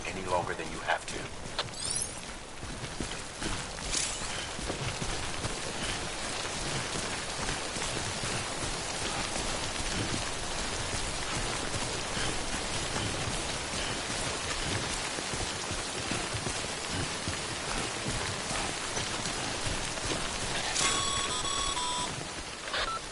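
Timefall rain in the video game Death Stranding, a dense steady downpour pattering close and continuous, with faint electronic beeps near the end and a voice speaking at times.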